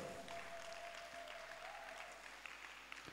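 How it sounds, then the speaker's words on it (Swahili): Church congregation applauding for Jesus with ululation, a dense steady wash of clapping alongside a sustained high trilling tone, moderately distant and continuous throughout. "Alafu mpigie Yesu makofi mazuri na vigelegele."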